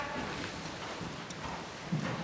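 Horse trotting in a riding lesson, steady hoof clip-clop against a continuous background wash, with a louder thud near the end and no talk over it.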